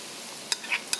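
Grated coconut being sautéed with prawns in a pan, a faint steady sizzle with two sharp spoon scrapes against the pan, close and quiet, no voices.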